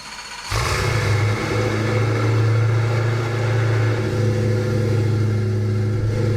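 A 2018 Koenigsegg Agera RS in the game Driving Empire starts up with a sharp bark after a half-second of quiet, then settles into a loud, steady, rumbling engine drone that swells slightly in a rev and holds, close and alone without talk.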